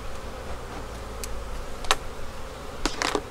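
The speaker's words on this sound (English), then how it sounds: "I've managed to make bees mad at me" Angry honey bees buzz around an open hive during a frame inspection, a continuous close drone with brief louder passes of individual bees near the listener.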